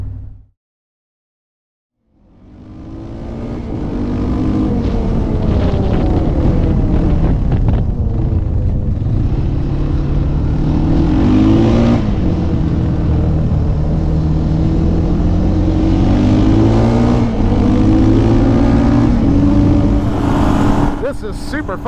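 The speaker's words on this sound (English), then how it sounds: "Oh, I love this little four-wheeler." A small four-wheeler ATV rides along a wet gravel road, its engine droning loudly and steadily after a short silence, with the revs rising and falling and wind buffeting the microphone.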